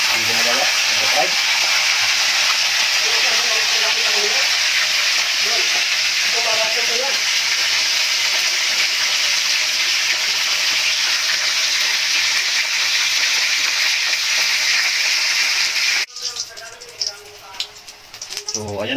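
Taro leaves in hot oil give a loud, steady frying sizzle that runs unbroken for most of the time, then drops away abruptly near the end, leaving faint clatter and low voices.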